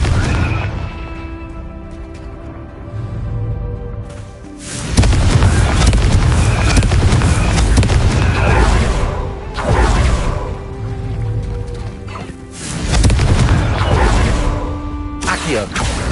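Confringo blasting-curse explosions from a video game: loud, heavy booming blasts surge in around three waves, each bursting and then rumbling down, with voices and other game noise underneath.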